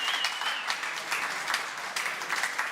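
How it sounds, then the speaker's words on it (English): An awards ceremony audience claps briefly after an entry is praised, producing a short, fairly quiet burst of applause that stays steady for a few seconds. "Give them a round of applause."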